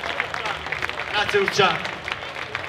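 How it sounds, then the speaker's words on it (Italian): A crowd at a rock benefit concert applauds in uneven, fluttering bursts while someone speaks briefly over the clapping. "grossissimo applauso, se lo meritano di tutto cuore"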